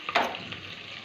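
Curry leaves dropped into hot oil for a tempering, a brief burst of sizzling that quickly settles into a quieter, steady fizz within a second.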